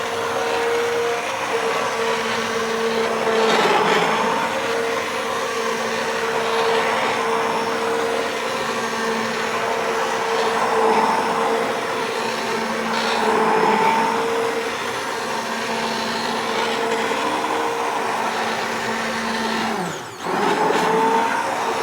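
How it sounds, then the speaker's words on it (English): A stick blender whirs steadily for a long stretch in a crock pot of hot process soap, a constant motorized hum with slight shifts in tone as it moves through thick liquid. "keeping your stick blender flat onto the bottom of the crock pot"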